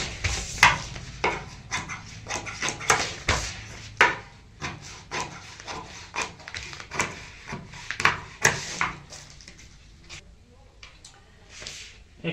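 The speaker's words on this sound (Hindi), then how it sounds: "तो इसको हम ऐसे काट लेंगे।" Cloth or a rice sack is cut for a homemade doormat, giving a series of irregular, close snipping and rustling strokes of varying strength that fade toward the end.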